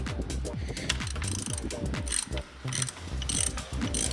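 Ratchet on a torque wrench being worked on a part of an MK8 GTI during an oil change, a close, rapid series of repeated clicking ratchet strokes with brief pauses between, no talking.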